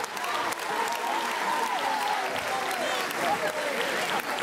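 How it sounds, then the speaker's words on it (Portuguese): A festival audience claps for a youth handball team at a comedy performance, steady dense applause filling the space, with a voice talking over it. "Salve palmas para eles, agora."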